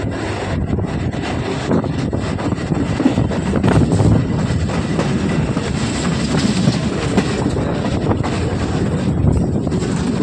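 A train rolls steadily along the rails at Naihati station with a continuous rumble and rhythmic clatter, close and loud, with wind buffeting the microphone.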